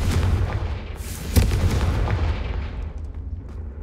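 A Confringo spell explosion in the video game Hogwarts Legacy erupts as a single sharp boom, followed by a rumbling blast that gradually fades away; loud and close.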